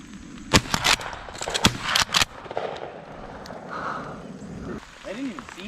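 Five sharp, loud gunshots crack in quick bursts during a dove hunt on public land in North Carolina, followed by quieter rustling and a person speaking near the end.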